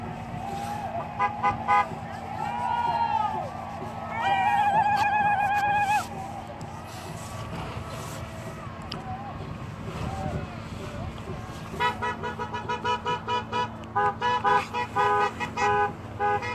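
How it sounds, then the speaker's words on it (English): Several car horns toot and honk repeatedly amid road traffic and wind, some in rapid bursts, others longer blasts, with a voice talking faintly. "The noise you hear is people going back in cars for medical"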